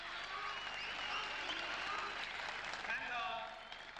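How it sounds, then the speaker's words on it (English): Crowd applause at a 1996 Al Ahram International squash match, rising after a lashing forehand smash by Barada against Walker; a dense, steady wash of clapping that fills the whole stretch and thins out toward the end, with some voices mixed in. "And listen to the crowd"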